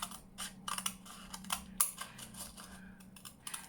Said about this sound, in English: And then I shall cut it down the middle.